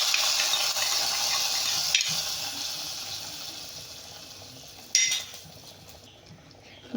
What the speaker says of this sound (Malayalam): ഞാൻ ഉള്ളി താളിച്ചത് കറിയിലോട്ട് ഒഴിക്കണം.